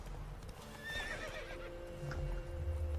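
A horse in the game The Witcher III whinnies loudly with a rising-falling neigh, followed by hoofbeats clopping close by, with a faint low hum underneath.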